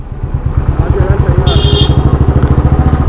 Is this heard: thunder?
no